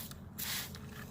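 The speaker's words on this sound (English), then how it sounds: "That's the fan spray" A Spectracide weed and grass killer sprayer on its fan spray setting lets out a short, steady hiss of liquid mist that swells and fades over about a second, heard close up with nothing else around it.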